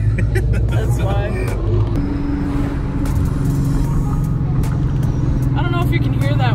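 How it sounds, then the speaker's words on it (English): Ford Mustang engine with a high whine over a loud close rumble, continuous throughout while people talk over it. "I don't know if you can hear that whine."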